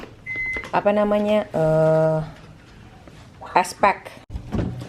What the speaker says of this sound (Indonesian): aku masukin ke dalam bowlnya si Gwyneth, kemudian aku reheat seperti itu